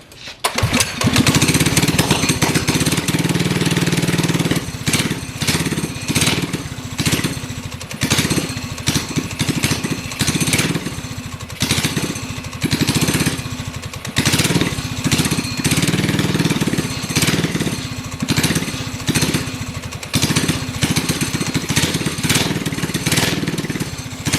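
A small engine on a homemade go-kart runs loud and rough, revving in uneven bursts and dropping off between them as it refuses to settle into a steady idle, with no talk over it.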